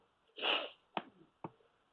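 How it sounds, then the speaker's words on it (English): A man sneezes once, sharply and close by, followed by two brief snort-like sniffs in an otherwise quiet room. "I may be sneezing a few times along the way"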